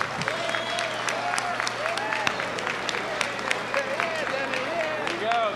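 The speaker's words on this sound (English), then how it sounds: "Let's give a quick round of applause for this legend tonight." Audience applause for a former world super featherweight champion boxer at a live event, a dense steady wash of clapping throughout, with a voice speaking over it.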